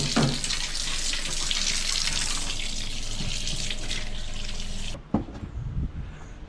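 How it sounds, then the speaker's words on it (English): A steady stream of tap water rinses a Mopar air filter from a 2017 Dodge Charger Daytona from the inside out, a continuous hissing splash for about five seconds before it stops and leaves a few clunks and drips. "that's just rinsing from the inside out"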